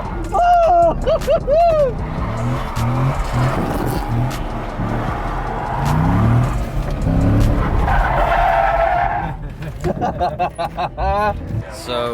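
Tires screech and squeal repeatedly as a car drifts with engine roaring, while excited voices shout over the noise.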